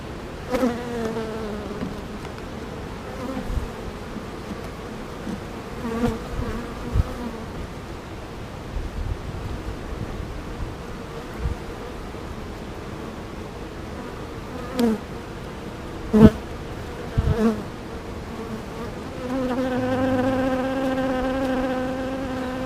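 Honeybees buzz steadily around an open hive nearby, a dense, continuous hum with occasional soft knocks and bumps, and a louder bee droning close at the end.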